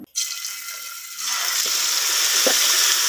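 Steady sizzling hiss of chicken frying in hot oil in a pan, rising after a short quiet start and continuing loud and close, with a few faint clicks.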